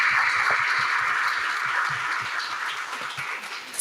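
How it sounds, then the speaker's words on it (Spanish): Audience applause during a panel for International Women's Day on education, equality and wellbeing: dense, steady clapping from a crowd filling the whole stretch, loud and close, easing slightly toward the end. "vamos a dar un aplauso a esta institución"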